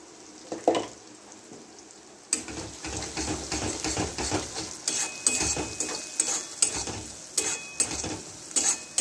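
Soybean curry with cumin and coriander powder sautés in a pan, a spoon stirring and scraping in irregular bursts over a steady close sizzle after a brief quiet start.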